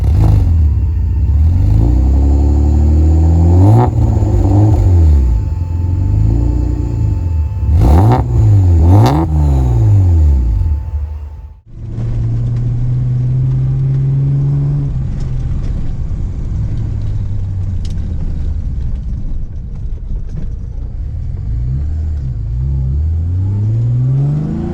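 An 1980s Brazilian Ford Escort XR3 fitted with a V6 engine revs hard, rising and falling in several sharp sweeps, then cuts briefly before pulling away in a long loud acceleration, close and alone with no voices.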